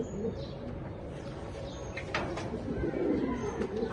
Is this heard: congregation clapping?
no